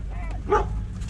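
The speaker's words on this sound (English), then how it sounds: "the dog is in the middle of the road." A dog in the middle of a forest road gives a single short bark or yip near the centre of the moment, fairly close, over a steady outdoor rumble.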